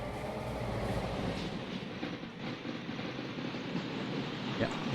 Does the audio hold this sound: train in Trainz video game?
yes